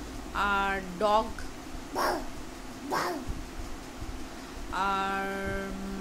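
A little girl mimics a dog barking with two short, sharp vocal barks in the middle, surrounded by brief spoken prompts in a quiet room.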